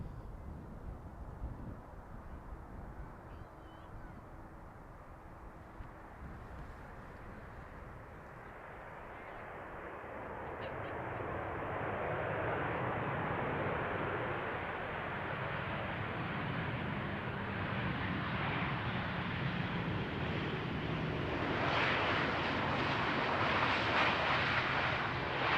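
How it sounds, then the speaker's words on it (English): Boeing 737-900 inbound from Copenhagen at Amsterdam Schiphol, a broad jet engine roar that swells from a distant rumble to a loud, sustained close pass with wind buffeting and no talk. "737 that is inbound from Copenhagen. 737-900."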